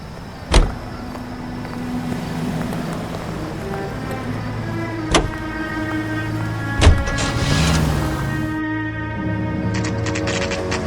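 Car driving in the video game L.A. Noire, a steady engine hum with sharp thumps and clunks near the start, middle and later, and a rising whine toward the end.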